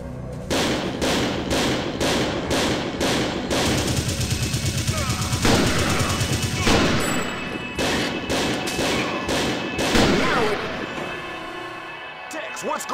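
Constant loud gunfire in the video game Second Sight, rapid repeated shots and bursts filling the scene with dense battle noise, with voices partly heard beneath.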